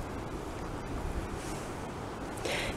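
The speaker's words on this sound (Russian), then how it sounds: "ветер сегодня какой-то нехороший в деревьях." Strong spring wind roaring through trees outdoors, a steady broadband rush with buffeting, continuous and fairly loud with a gust near the end, no voices.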